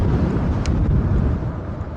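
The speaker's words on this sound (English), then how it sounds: "it is really windy outside" Strong wind buffets the microphone in a continuous low rumble, steady and loud throughout.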